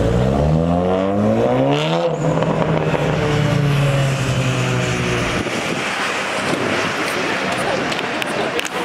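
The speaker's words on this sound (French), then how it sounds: "Ah ouais, le V8 compresseur." A supercharged V8 car accelerates hard in a slow drag race, its engine note climbing through rising harmonic sweeps, then a loud broad roar that fills the rest of the stretch as it passes close by.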